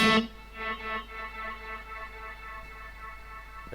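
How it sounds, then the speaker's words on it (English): A guitar chord through a Kemper Profiler delay rings out, its repeats pulsing a few times before blurring into a smooth, fading reverb-like wash under a low constant hum. "Can you hear how the modulation, how the trail slowly seemingly turns into a reverb?"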